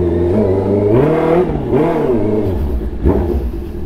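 A Honda CB650R motorcycle engine revs up and down in a few rising and falling sweeps, close and loud, with a steady idle rumble between throttle blips.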